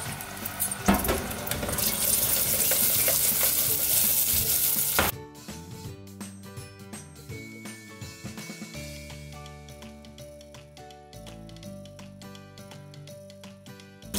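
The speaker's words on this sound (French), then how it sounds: "On va mettre le beurre froid pour arrêter un petit peu la cuisson du caramel." Cold butter dropped into cooking caramel for salted butter caramel, giving a loud broadband sizzle for the first five seconds that then falls away to quieter bubbling and faint stirring, with no talk.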